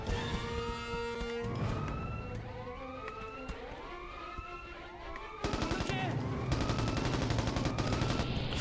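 Sirens wail over and over with rising and falling sweeps in the Mercenaries video game, loud amid steady gunfire and rumbling combat noise, with a burst of denser rattling near the end.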